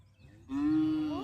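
A single cow lets out one loud, close moo that starts abruptly and holds steady for under a second.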